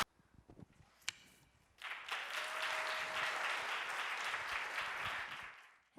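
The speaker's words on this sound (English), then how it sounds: "Please welcome them with a round of applause." An audience applauds to welcome three student presenters at an international cultural academic presentation contest, a dense, steady wash of clapping that swells in after a few scattered taps, holds for about four seconds, then fades out.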